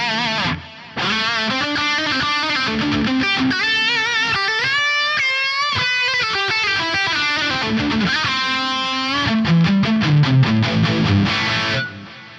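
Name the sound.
electric guitar through synth wah with dual delay and plate reverb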